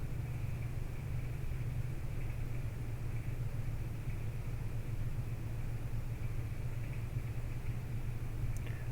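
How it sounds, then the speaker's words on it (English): A car engine idles steadily in a driveway, a constant low hum and rumble that runs unbroken and moderately distant the whole time, with no voices over it. "it sounds like there's a car running"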